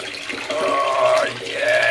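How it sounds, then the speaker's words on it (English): Steady rush of cold water pouring into a bathtub, continuous and fairly loud, with no talking. "that will do for putting the cold water in"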